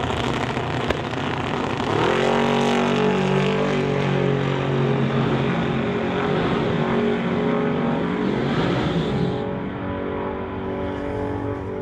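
Drag race cars, a 1969 Acadian and a Fast Ford Falcon, launch at an NHRA Summit ET Series event; a steady loud engine roar swells as they accelerate away, then fades slightly near the end.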